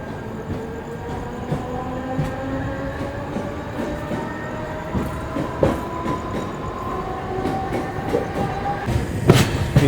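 Trains crawling slowly past a red signal on a main line from Mumbai toward Konkan give a steady rumble with wheel clatter and long tonal squeal lines throughout, heard close and continuous, with a brief sharper burst near the end.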